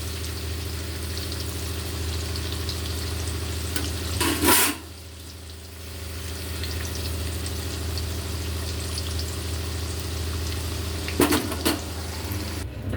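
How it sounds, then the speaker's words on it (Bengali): Spicy chicken with potatoes fries in a pan, giving a steady, even sizzle that holds for the whole stretch with only brief louder clatters; no one speaks. "লাল লাল করে ভেজে নিতে হবে সব।"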